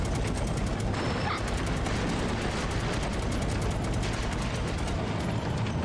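Rapid game gunfire from a rail-shooter ride sequence in Final Fantasy VII Rebirth, a dense, continuous barrage of shots with booming low impacts, loud and steady throughout with no pauses.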